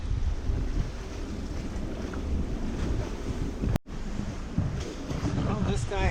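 Heavy wind buffets the microphone at a boat anchorage, roaring steadily with gusts and water wash, broken by one brief sharp dropout midway; no speech stands out.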